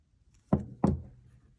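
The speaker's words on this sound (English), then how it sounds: "Go ahead and open up my lever back" A lever back earring clasp being opened while making wire-wrapped earrings: two small, sharp clicks about a third of a second apart, close and quiet, with near silence around them.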